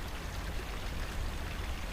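Spring water flows steadily at Big Hill Springs in freezing weather, a constant broadband rushing and splashing wash with no breaks, moderately loud and alone.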